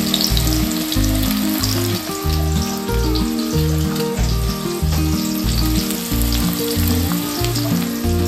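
Cumin, chili and onion shallow frying in a pan, giving a loud, steady sizzle and crackle that fills the whole stretch with no voices.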